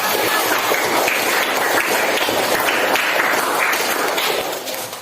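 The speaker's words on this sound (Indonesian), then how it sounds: "beri tepuk tangan untuk kelompok" A group in a teachers' coaching session claps in sustained applause for several seconds, the dense patter fading slightly at the end.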